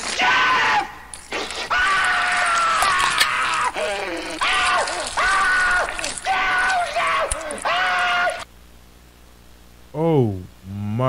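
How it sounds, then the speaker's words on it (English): Loud, repeated screams from a found VHS tape, harsh and distorted, with a burst of static followed by a warbling tape sound at the end. "those screams sounded real"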